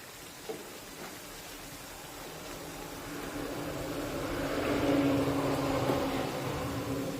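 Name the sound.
deep-frying poha vadas in oil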